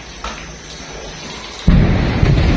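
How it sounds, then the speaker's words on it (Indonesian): A sudden loud blast of crackling bangs erupts after a quieter stretch and keeps rumbling and popping to the end, like firecrackers going off. "Ah, bunyi petasan itu."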